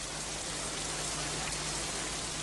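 Torrential rain pours steadily over an unattended car park, a dense, unbroken hiss of heavy drops hammering surfaces, with no voices.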